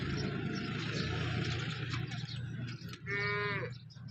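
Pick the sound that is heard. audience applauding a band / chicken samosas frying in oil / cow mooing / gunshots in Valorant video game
cow mooing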